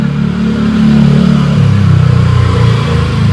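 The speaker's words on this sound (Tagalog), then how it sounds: "May dumaan na motor." A motorcycle goes by on a road next to a balcony garden, its engine a steady loud mid-pitched drone that shifts in pitch as it passes close, alone with no talk.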